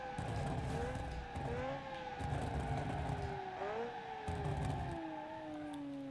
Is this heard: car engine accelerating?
yes